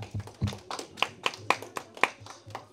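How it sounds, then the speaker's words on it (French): A few scattered claps from a small audience at a Toulouse meetup, sparse and fairly quiet, with soft tapping in between and no talk. "Vous pouvez déjà vous applaudir pour ces 5 ans."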